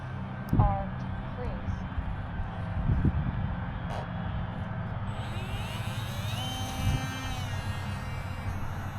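A small UMX Air Tractor RC airplane on a 3S battery takes off with full flaps, its electric motor whine rising and climbing in pitch over steady background noise, with a few sharp knocks early on.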